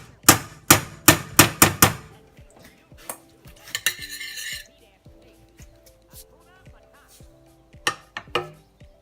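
A spoon scraping and knocking butter into a metal pot for Kraft Dinner gives a quick run of loud, sharp clinks, then softer scrapes and taps with a brief rattling burst. Light background sounds continue between the hits.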